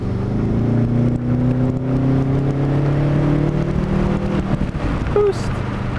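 A car engine revs up through a pull, steady droning tones climbing in pitch for several seconds, loud and close, then easing off, with a brief spoken word near the end.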